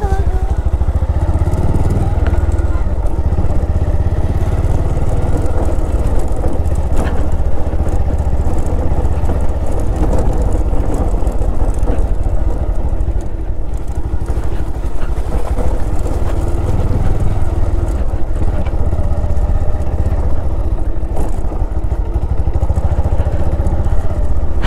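Riding a motorcycle on a rural road, with a steady, loud engine drone and wind rumble throughout and no break in the sound.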